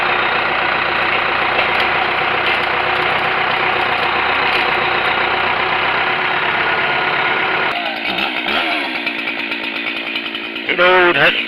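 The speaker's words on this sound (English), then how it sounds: "Good old Husqvarna chainsaws." A Husqvarna chainsaw runs continuously, close and loud, its engine buzzing steadily before the tone shifts near the end; voices can be heard in the background.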